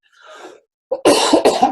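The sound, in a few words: cough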